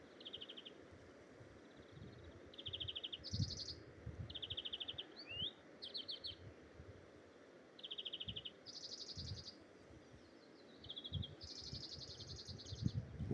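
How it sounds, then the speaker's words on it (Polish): A small bird chirps repeatedly in a Norwegian forest, short high trilled phrases coming in bursts at a moderate distance, over a soft rustling, crunching background close by. "Ćwierka sobie tam ptaszyna"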